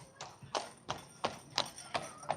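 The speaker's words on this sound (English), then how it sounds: "surrounded by horses" Horse hooves clip-clop on hard pavement along the Blackpool seafront in a steady, fairly close rhythm, about seven sharp strikes against a low background hum.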